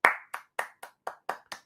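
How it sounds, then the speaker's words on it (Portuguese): Seven distinct hand claps ring out in a steady, quick rhythm, crisp and fairly close, with no talking over them, as an audience is urged to applaud during a religious lecture. "palmas para Abraão."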